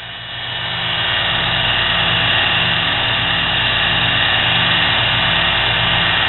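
A small homemade nano lathe turning a plastic part for a screwdriver handle, a steady loud motor hum and whir with a pulsing drone, continuous and close, no speech.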